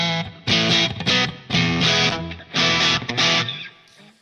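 Electric guitar run through a Line 6 Pod HD500 amp modeler with the drive set around 60, playing loud distorted chords in repeated bursts with short gaps between them, no voices.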